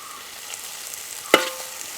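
Ten small shallots with a teaspoon of salt are sautéed in a pan for a goat mutton curry, giving a soft steady sizzle with a single sharp clank of a spoon against the pan midway.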